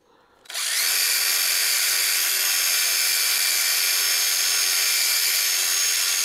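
A drill-driven wire wheel spins up sharply and then grinds steadily and loudly against a rusty Diacro sheet-metal finger brake, holding a continuous high whine with no talk.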